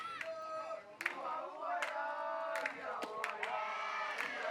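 Spectators at a Pony League World Series baseball game between Chinese Taipei and Michigan cheer, whoop and shout in bursts, a fairly faint but continuous crowd roar with individual voices rising above it.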